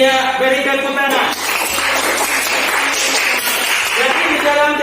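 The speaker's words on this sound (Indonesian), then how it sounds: "beri tepuk tangan." Children clap together in a classroom, a burst of many small hands at close range filling the middle of the stretch, with a teacher's voice heard before and after.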